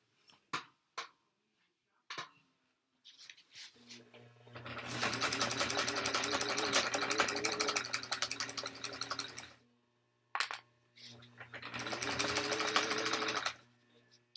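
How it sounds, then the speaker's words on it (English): A sewing machine back stitches the straps of a tote bag in two close bursts of rapid mechanical stitching, separated by clicks and handling noises and a short pause. "I'm going to back stitch on my straps"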